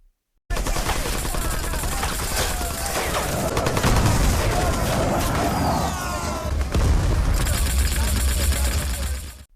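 Sustained gunfire bursts from an attack scene in an Indian action film, a dense fusillade of shots with booms and mechanical clatter filling the whole stretch, loud and continuous with no talk over it.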